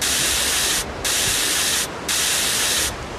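Repeated bursts of hissing from a spray can in a survival video game, three long sprays separated by short pauses, loud and close.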